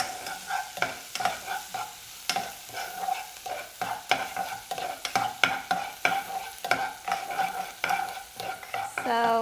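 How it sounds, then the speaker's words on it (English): Onions sauté in a pan for spaghetti sauce with meatballs, a steady close sizzle broken by repeated scraping and stirring strokes. A single short spoken word is heard. "we just saute this just to tender the onion that we have"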